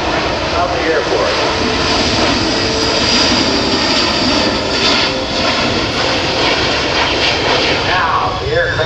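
C-17 Globemaster III jet transport maneuvering through a tight 360-degree circle at the 2009 Dover AFB airshow: a loud, continuous engine roar throughout, with an announcer's voice talking over it.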